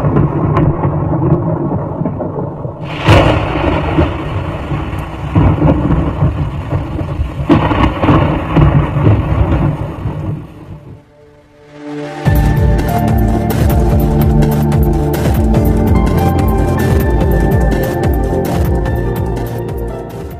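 Thunderstorm over Brisbane with lightning strikes: loud continuous rain and rumbling thunder, a sharp crack near the start, a brief lull, then a dense, crackling downpour with heavy booming rolls.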